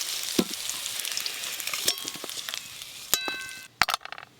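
Potatoes sizzling in hot mustard oil, a close, busy crackle with stirring scrapes and sharp metallic clanks of a spoon against the pan toward the end, no voices.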